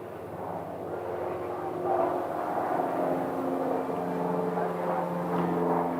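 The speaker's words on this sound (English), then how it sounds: "we have a little Mooney taxiing right in front of us here" A Mooney light aircraft taxiing at Scottsdale airport gives a steady, moderately loud engine drone with harmonic tones, holding close and constant with no talk over it.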